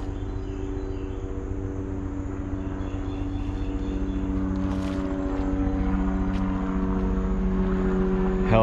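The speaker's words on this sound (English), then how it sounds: "Helicopter tours going over." A tour helicopter passes over a wooded trail in Tennessee in summer, its steady low rotor and engine drone holding loud and continuous throughout, with no voices.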